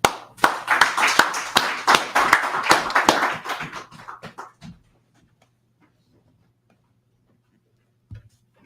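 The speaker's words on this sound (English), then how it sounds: "With a round of applause" A gathering at a Feast of Tabernacles closing event breaks into a round of applause, brisk, close hand clapping that fades out after about four seconds, followed by near silence and one soft thump.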